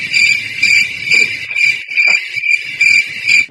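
Crickets chirp in a loud, steady rhythm of short repeated pulses, close and continuous with no other sounds.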